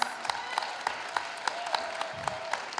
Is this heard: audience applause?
yes